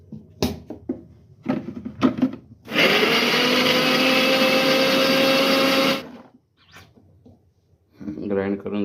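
A kitchen mixer grinder whirs loudly and steadily for about three seconds while grinding red sauce ingredients for pasta, set between short clatters and knocks, with brief talk after it stops.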